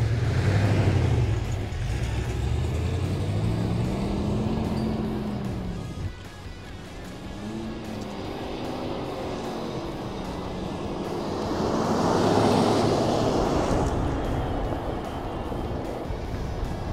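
A 1988 Ford F150 XLT Lariat pickup drives by outdoors, its engine drone rising and falling in pitch as it approaches, passes and pulls away, with a broad rush of road noise swelling near the end.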